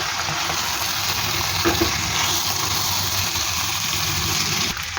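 Rice grains frying with beef in a pan for biryani give a steady, dense sizzle that holds evenly throughout at close range, with no talking.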